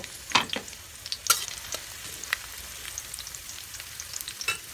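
Garlic sizzling in hot oil in a pan, a steady close frying hiss broken by sharp crackles and stirring clinks, with no talking.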